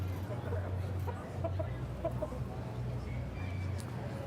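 Chickens at a poultry showmanship event at a state fair give soft, intermittent clucks over a low steady hum and background murmur of a crowd hall, with people talking.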